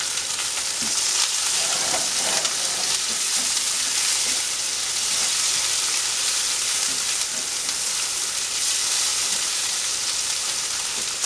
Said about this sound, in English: Now that's the way I fry squash.